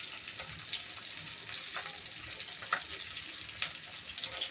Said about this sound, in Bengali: আমার ভাই বউ মাছ ভাজলে কেমন হইলো